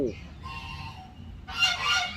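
After a soft stretch of faint, thin tones, a single goose breaks into a loud, nearby honking call near the end.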